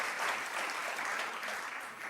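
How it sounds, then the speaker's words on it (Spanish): An audience applauds in a short, even burst of clapping at a religious gathering, a dense wash of hands with no individual claps standing out. "Damos un aplauso."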